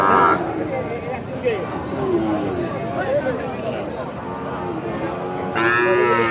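Sahiwal cattle moo loudly nearby at a cattle market, one long low call after another, over a background of crowd chatter and voices.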